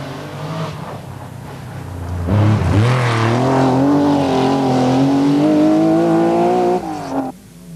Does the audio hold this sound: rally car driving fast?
yes